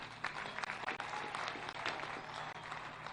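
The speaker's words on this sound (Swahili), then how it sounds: "President apigwe makofi" A crowd at a Meru rally applauds President Ruto with dense, continuous clapping that stays loud and steady for about three seconds, with a few sharper individual claps standing out.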